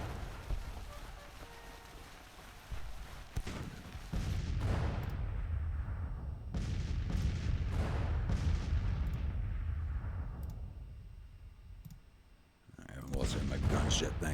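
Rolling artillery booms and rifle fire from a Civil War battle game, heavy and sustained with swelling volleys and a fading tail, while someone talks over it.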